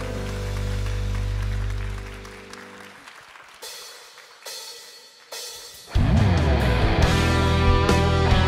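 A church congregation stands and applauds during Sunday worship, rhythmic clapping from many hands mixed with sustained organ or keyboard tones. The music fades out midway and then swells back loudly alongside the clapping.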